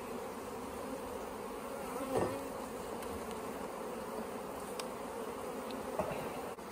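A dense, steady hum rises from honeybees swarming around an opened hive in South Alabama in October, agitated and close, with a few individual bees droning louder as they pass near.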